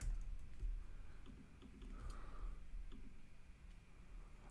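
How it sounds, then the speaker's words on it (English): Typing on a computer keyboard comes through as scattered light key clicks, soft and close, over a quiet background hum. "Let's try typing something in here."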